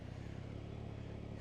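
Yamaha MT-09 motorcycle engine starts and settles into a quiet, steady low idle, a faint continuous rumble lasting about a second and a half.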